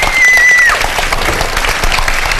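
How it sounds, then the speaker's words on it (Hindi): An audience at a stage show applauds loudly and continuously for a couple of seconds, a dense wash of clapping with a brief high whistle near the start. "अब वसीम अंकल के लिए तालियां बजा दें एक दफा।"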